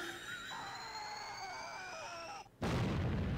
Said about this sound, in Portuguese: ele cagou uma bombinha explosiva